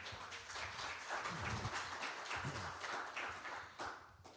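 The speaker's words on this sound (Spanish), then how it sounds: "démosle un aplauso al Señor" Church congregation applauding together after a sermon, a dense wash of many hands clapping steadily for several seconds at moderate level, close and continuous before tapering near the end.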